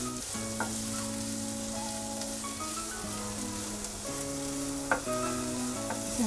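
Medium-size onions frying in a pan as a steady close sizzle, with faint clinks of stirring and a sharper scrape near the end.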